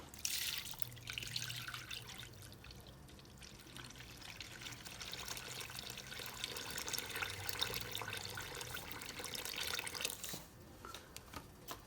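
Water pours out of a container in a steady, fairly quiet splashing trickle that runs for about ten seconds before easing off.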